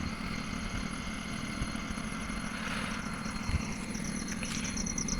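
An empty tractor idling on a weighbridge scale, a low steady engine rumble with faint chattering, moderately close and continuous with no talk.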